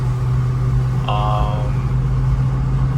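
A car is on the road with a steady low engine drone and road rumble heard from inside the cabin. A short higher tone sounds briefly partway through, and no one speaks.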